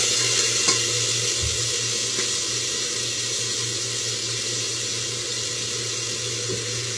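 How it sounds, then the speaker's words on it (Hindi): Ground spice paste with cashews and turmeric frying in a pan for eggplant chutney, a steady close hiss and sizzle with a few faint clinks, no talk. "और इसको मैं भून लूँ।"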